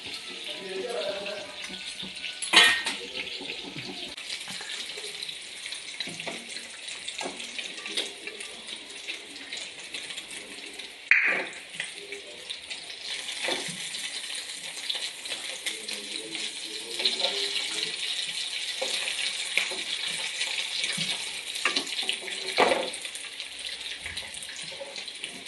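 Chili-coated stuffed mussels fry in oil in a pan, giving a soft, continuous sizzling hiss over a long stretch, dotted with a few sharper pops and crackles.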